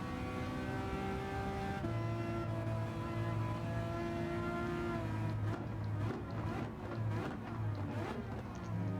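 Ferrari LaFerrari engine in Gran Turismo 7 racing round Sardegna Road A, a loud, steady roar with strongly tonal harmonics that climb and shift through gear changes, with sharper bursts of noise toward the end and no talk over it.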